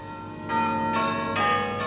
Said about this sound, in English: the clapper on one or other of a number of differently tuned bells